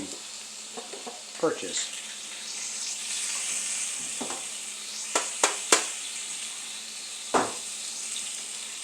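A simmering cream sauce bubbles softly in a pan while a utensil is stirred through it, giving occasional scrapes and sharp clinks against the pan over a low sizzle, with a brief spoken word.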